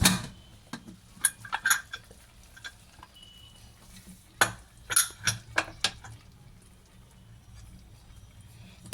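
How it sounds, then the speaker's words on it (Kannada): Pressure cooker lid being opened after the whistle, with the steam already released, while cooking bele sambar: scattered metallic clanks and clicks of the lid and pot come close up over a quiet kitchen background. "ವಿಷಲ್ ಆಗಿದೆ ಆವಿ ಎಲ್ಲ ಹೋಗಿದೆ ಓಪನ್ ಮಾಡೋಣ"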